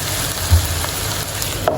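Mutton keema sizzles in a hot pan with salt, a steady close frying crackle holding through a short stretch with one small bump, no voices over it.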